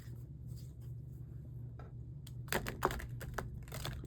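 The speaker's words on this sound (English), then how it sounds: "Here we go with the chaotic shuffling." Tarot cards are shuffled chaotically, starting as soft scattered flicks over a low hum, then turning into sharper, quick clusters of slaps and riffles.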